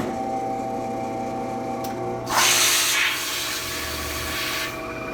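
A CNC cutting machine in a job shop runs its nozzle across metal: a steady mechanical hum and whine, then a loud hissing burst of cutting that fades after a second or so, with no talking.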